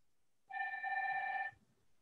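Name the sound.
phone ringing during online meeting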